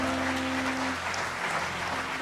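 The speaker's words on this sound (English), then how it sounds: "Let's give them a round of applause." Church congregation applauding new members, a steady spread of clapping at a moderate distance with a faint sustained tone underneath and no talk over it.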